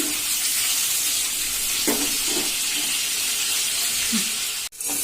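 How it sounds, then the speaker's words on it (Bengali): Fish sizzles as it fries in oil in a pan, a steady broadband hiss running throughout the clip with a few faint clatters. A deeper dropout comes near the end. "মাছটা ভাজা হতে থাক"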